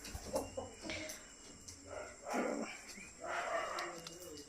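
Backyard chickens with leg tags cluck in short, scattered bursts at moderate distance, several separate calls over a few seconds, with a dog-like bark mixed in and faint background noise.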